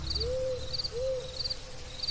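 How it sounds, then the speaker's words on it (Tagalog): A tiktik, the aswang creature, sounds as a looping sound effect: two long rising-then-falling hoots answered by repeated high chirping notes, steady and fairly loud, alone without talk. "humuni ang tiktik ng malakas at nagpaikot-ikot pa ito sa ibabaw"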